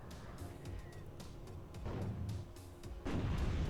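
Muffled gunfire and booming artillery from the WARNO war strategy game, with tanks and missiles in combat. Scattered shots and heavier thumps come at a moderate distance, building toward a louder blast at the end.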